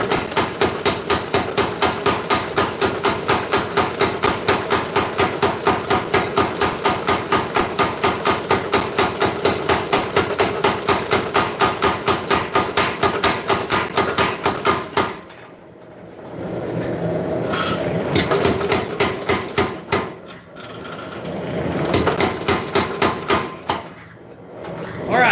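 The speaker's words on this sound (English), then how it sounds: "I'm going to hammer this out." Steel is hammered out at a forge in a fast, steady run of sharp ringing blows for about fifteen seconds, then the blows stop and start in short bursts with a humming gap between.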